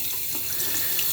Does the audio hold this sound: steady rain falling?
no